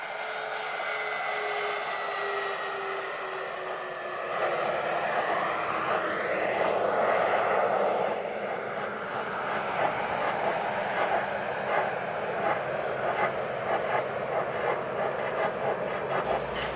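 Space Shuttle Endeavour touches down on runway 15 at the Kennedy Space Center Shuttle Landing Facility, a loud, steady broadband roar that swells in the middle and rumbles on throughout, with no voices.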